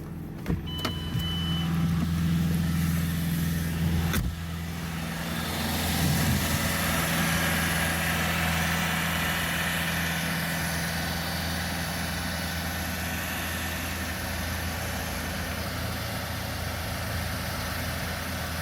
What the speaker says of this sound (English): the car will be idling about 2500 RPM for maybe a bit under an hour